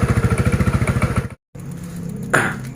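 A motorcycle engine idling steadily up close with a fast, even pulsing putter, then a brief cut to quiet, followed by a softer running hum and a single sharp clack.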